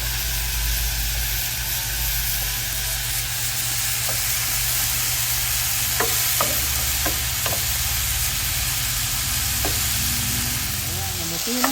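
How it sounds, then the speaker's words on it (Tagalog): Sautéing in a pan for a mung bean dish with tomato, a steady loud sizzle and hiss throughout, with occasional spoon scrapes and taps against the pan. "Hayaan lang natin magisa-gisa dyan. Bago natin isama dito sa munggo."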